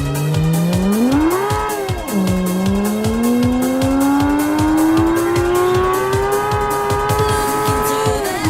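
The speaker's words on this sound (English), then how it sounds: "Let's try the Corsa GT." A Corsa GT racing in a video game, its engine note climbing steadily through the gears with a rhythmic mechanical pulse and squealing tires, loud and continuous with no voices.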